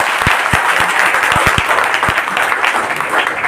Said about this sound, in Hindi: पहले एक बार अपने लिए ताली बजा लीजिए आप।